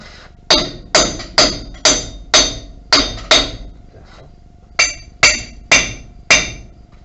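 Sharp hammer strikes ring out in a steady series, about ten blows with a short pause midway, loud and close with a metallic ring, while removing a lift kit from a 1975 4x4 square-body truck.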